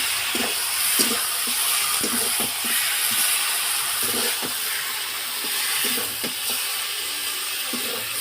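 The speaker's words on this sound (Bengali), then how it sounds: "এবার মাংসগুলো দিয়ে দেবো, দিয়ে ভালোভাবে কষিয়ে নেবো।" Chicken pieces that were marinated fry in a hot pan, giving a steady loud sizzle and hiss. Soft scraping stirs come at intervals throughout, with no talking.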